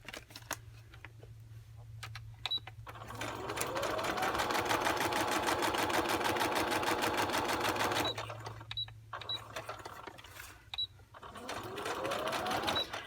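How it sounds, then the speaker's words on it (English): Sewing machine stitching pockets made from recycled envelopes, running in two long stretches of rapid even mechanical chatter with a quieter pause between, close and clear. "I'm going to sew down here and I'm going to sew down here"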